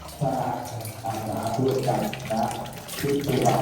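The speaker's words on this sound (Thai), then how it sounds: "น้ำไหลดีมากนะครับ" Water gushes steadily from a tap in a bathroom behind a stage at staff lodgings, a continuous close hiss and splash while a voice talks over it.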